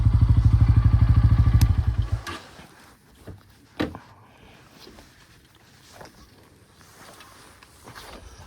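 A motorcycle engine idles close by for about two seconds and then cuts off, followed by quiet scattered thuds and clatter. The bike is being parked on a muddy road in a hill village in the Kalimpong area.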